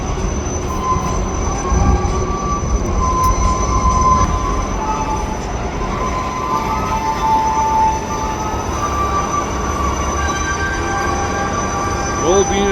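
A long freight train hauled by BNSF locomotives rolls past up close, a loud continuous rumble of wheels and railcars with faint rail squeal and clatter throughout.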